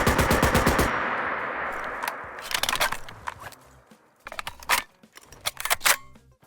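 An HK G3A3 service rifle in Fallout 4 fires a burst of rapid gunfire, then goes through a drum magazine quick-eject reload, heard as a series of sharp metallic clacks, latches and rattles, close and alone.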